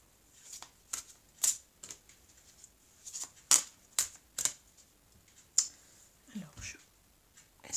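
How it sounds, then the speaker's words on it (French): Tarot cards cut and shuffled by hand, giving a series of short, sharp papery slaps and riffles at irregular intervals, close and fairly faint, with no talk. "Alors on va prendre 2 cartes, je vais faire une coupe."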